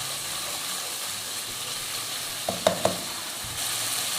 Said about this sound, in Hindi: और इसको अच्छा सा इतनी देर भूनेंगे कि तेल जो है वो इससे अलग होना शुरू हो जाए